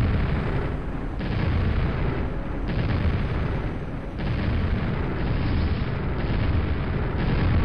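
Deep booming explosions from the video game Quake roll out repeatedly in heavy waves, loud and continuous with no talk over them.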